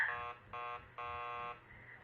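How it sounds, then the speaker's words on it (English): A door buzzer rings in the video game Killer Frequency, a flat electronic tone sounding in three bursts, the last held longest, fairly quiet with no speech over it. "keep calm and ring the buzzer"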